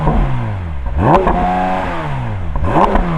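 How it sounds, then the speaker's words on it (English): A naturally aspirated flat-six Porsche 911 engine revs hard twice while idling between, pitch sweeping up sharply then falling back to a soft limiter, loud and close. "Let's have a listen to a naturally aspirated flat six."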